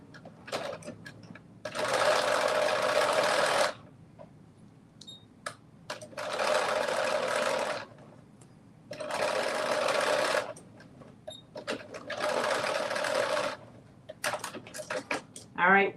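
A sewing machine runs in four steady bursts of about two seconds each, stitching down the enclosed raw edge of a tie. There are short quiet pauses between the runs, with faint handling noises in them.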